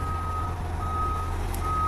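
A truck's reversing alarm: steady repeated high beeps over a loud diesel engine rumble, one of three trucks hauling bulldozers to Hail.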